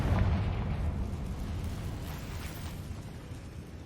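A Confringo fire spell from Hogwarts Legacy detonates in a deep booming explosion, a loud burst at the start that rolls into a long rumbling decay with crackling debris.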